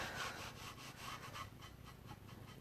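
A rag rubs oil over painted wood finished with milk paint, producing soft, repeated back-and-forth scrubbing strokes in an even rhythm, quiet and close.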